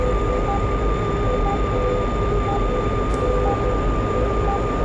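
A MiG jet in a flight simulator drones with a constant, dense engine roar and a steady whining tone, loud and unbroken from start to finish.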